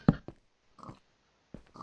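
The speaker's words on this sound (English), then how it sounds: "Pigs." Pigs in a blocky sandbox video game give a few short, close grunting oinks spaced apart with quiet gaps between, no talking.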